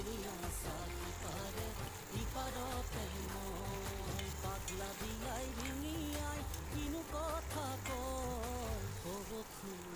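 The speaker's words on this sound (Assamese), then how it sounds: "পিঁয়াজ বিলাহী ফ্ৰাই হৈ গ'ল বইল কৰি থোৱা আলুখিনি দি দিলোঁ" Onion, tomato and boiled potatoes frying and being stirred in a pan for eggplant bharta, a steady close sizzle with scraping stirs over continuous background music.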